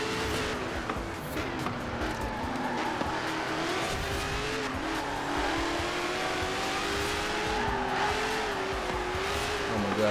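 A 1,123 hp Dodge Demon racing other cars in Forza Horizon 4, engines droning loud and continuous with rising revs and tire squeal throughout.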